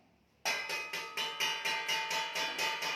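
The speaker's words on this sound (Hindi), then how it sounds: "ये तो थाली पीटने की आवाज है।" A metal plate (thali) is struck in a steady rhythm of about ten bright, ringing clangs, loud and close, following a brief quiet moment.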